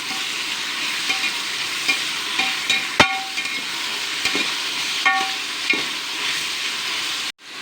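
Onion and tomato sautéing in a pan for mutton biryani, giving a loud continuous sizzle up close, broken by the scraping and clanks of a spoon stirring against the metal. No voices.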